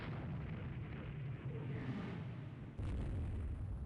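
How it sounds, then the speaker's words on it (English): 16-inch shells striking warships in the naval strategy game Rule the Waves 2, heavy low rumbling booms that roll continuously, with a sharper loud impact near the end. "There we go, we're scoring our additional 16-inch hits."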